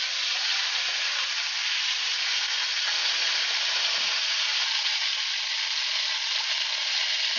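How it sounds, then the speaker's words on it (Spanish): Beef browning in a pot for a pot roast gives off a steady, loud sizzle and hiss that runs without a break from start to finish, with no voices over it. "Se tiene que dorar todas las partes de la carne."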